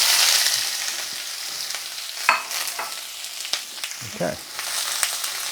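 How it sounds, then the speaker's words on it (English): Vegetables stir-fried in a hot pan for a sweet and sour sauce, a bright crackling sizzle with a few scrapes and clanks, and a brief spoken word. "So we're just going to stir fry this, and this will get the sauce off to a good start."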